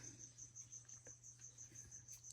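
Feeder crickets chirp steadily inside a Stenodactylus sand gecko enclosure, a faint, continuous high trill with a low hum beneath, no voices.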